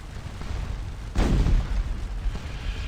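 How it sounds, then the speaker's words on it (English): A cannon in the Scourge of War Waterloo game fires canister shot at the Wavre bridge over the River Dyle, a single loud low boom that breaks over steady battle rumble and then fades into the ongoing din. "Our cannon have set up, and I believe that was the first canister shot of the scenario."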